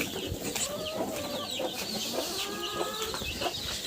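A brooding hen clucks repeatedly in a backyard poultry yard, with a mix of chickens and ducklings nearby; the steady, close clucking is joined by some other bird calls, and no voices are heard.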